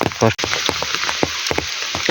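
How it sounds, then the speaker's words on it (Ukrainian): Heavy summer rain during a thunderstorm in mushroom-picking woods, with crisp drops tapping nearby surfaces over a steady hiss and a brief louder rustle near the start. "Трохи стоїмо, бо дощ дуже сильний, не йдемо нікуди поки що."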